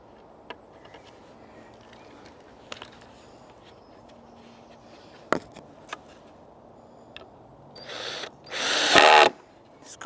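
A power drill drives a screw into wood at an allotment garden, a couple of short loud whirring bursts near the end after quiet scattered clicks and knocks.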